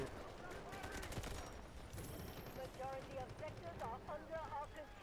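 Video game gunfire from a hard-hitting gun in a Thai multiplayer shooter, with rapid shots and bursts mixed among dense game effects and steady noise while players talk over it throughout.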